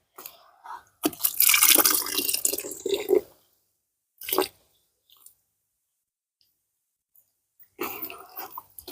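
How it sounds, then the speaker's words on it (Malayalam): Soaked coir pith is squeezed by hand, giving a few wet, squelching bursts with drips, the longest near the start and shorter ones after, separated by quiet pauses. "ഇത് ആവശ്യത്തിന് കുതിർന്ന് വന്നിട്ടുണ്ട് നമ്മളിപ്പോൾ ഇതിൻ്റെ വെള്ളം പിഴിഞ്ഞ് കളഞ്ഞിട്ട്"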